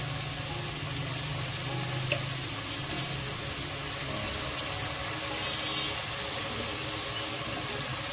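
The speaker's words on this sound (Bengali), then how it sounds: "সামান্য একটু পানি দিয়ে দেবো বন্ধুরা, নাহলে পরে আবার মশলাগুলো লেগে যাবে।" A little water poured into masala frying in a pan, giving a steady, even hiss and sizzle close by that holds throughout with no voices.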